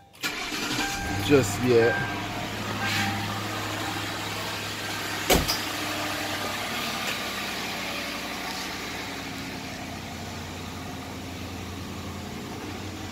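A 2004 Crown Victoria LX Sport with no exhaust fitted cranks over and settles into a steady, rough idle, with a sharp start near the beginning and low rumble continuing throughout, while someone talks over it.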